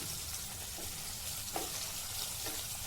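Bitter gourd slices frying in a pan, a steady close hiss and sizzle of hot oil with a few soft crackles, no voices.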